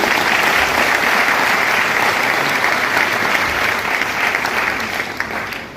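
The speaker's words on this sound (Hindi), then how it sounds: "सर के लिए जोरदार ताली बनती है ना।" A seminar audience in a hall gives loud, sustained applause, dense clapping that holds strong before easing slightly toward the end.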